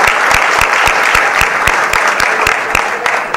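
Audience at a political rally speech claps in sustained, rhythmic unison, a loud close burst of applause with regular beats throughout.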